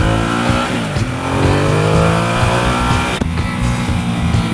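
A loud, rough 2016 Ducati XDiavel motorcycle engine idles and revs continuously up close with a raspy, rumbling tone, rising and falling slightly.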